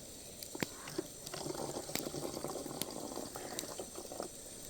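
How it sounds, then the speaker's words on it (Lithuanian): Boiling water is poured into a plastic bottle at a forest campsite at night, a faint bubbling, gurgling trickle with small crackles and clicks as the bottle shrinks, heard close and quiet. "Mes verdantį vandenį pilam nėra gal gerai."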